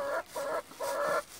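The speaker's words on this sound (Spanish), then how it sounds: "Esta gallina ya entró a poner huevo recién" A hen that has just gone in to lay an egg gives three drawn-out, evenly spaced clucks, close and clear, with short quiet gaps between them and no talking.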